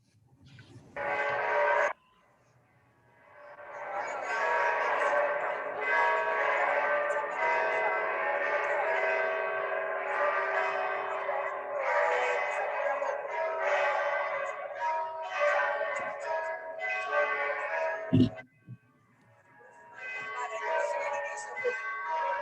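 The church bells of Santa Maria Assunta in San Gimignano, Italy, ring a sustained peal of overlapping tones. It breaks off briefly near the start, then carries on steadily with a sharp knock near the end.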